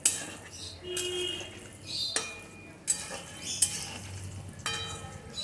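Bora fritters fry in a pan for a curry while being stirred, producing a low frying sizzle punctuated by recurring utensil clinks and scrapes against the cookware.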